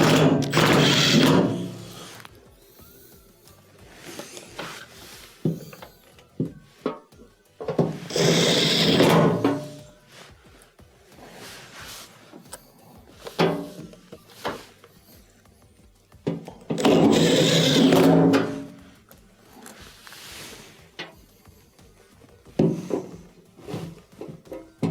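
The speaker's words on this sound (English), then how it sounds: "let's go ahead and reinstall the underside screws" Screws driven back into the underside of a washing machine propped up during a shock absorber repair, heard as intermittent bursts of whirring and rubbing with quiet handling noise between them, no talking.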